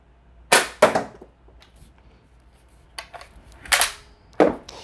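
Toy double-barrel shotgun fires a volley of sharp cap-gun-like pops: two quick reports, a pause, then a few more bangs in close succession, loud and near with no talk.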